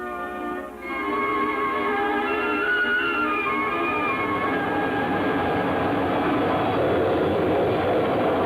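Ryan X-13 Vertijet jet engine in free hovering flight, a loud, steady roar with a rising whine that swells after the first second and holds full power throughout.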